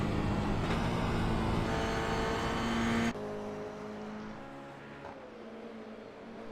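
Toyota GR86 race car in a racing sim game, a steady engine drone with harmonic tones holding loud for three seconds, then dropping quieter and shifting pitch as the car works through a lap, no talking.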